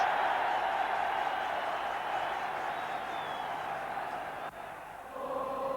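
Football crowd at Liverpool's ground roaring for manager Bill Shankly: a steady, massed wash of distant cheering and chanting from a huge terrace, sustained throughout with a slight dip near the end.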